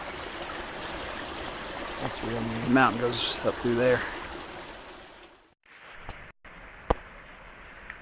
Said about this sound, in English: there's actually a waterfall right here